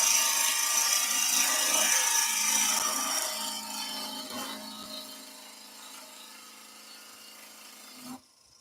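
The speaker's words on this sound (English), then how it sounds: "flip the gouge over and push the bevel around" A woodturning gouge cuts driftwood spinning on a lathe, giving a steady, loud scraping and rubbing hiss that slowly softens and tails off before stopping near the end.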